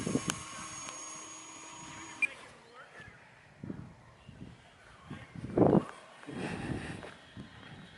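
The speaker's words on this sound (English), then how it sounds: "And this is a quiet plane with a motor on." A small electric-powered RC sailplane flies overhead with its motor running, a soft, steady whir that fades, while wind and outdoor noise swell around it.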